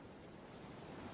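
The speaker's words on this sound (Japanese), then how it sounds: "波の音まで聞こえてきました。" Continuous broadband rush of ocean surf, a steady wash of waves with no voices.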